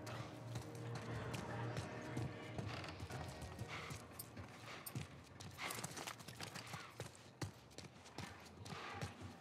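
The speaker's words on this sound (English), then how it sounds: "Let's get back to the horses." Horse hooves clip-clop in an irregular, busy stream within a video game, mixed with clattering movement and other game noise at moderate level.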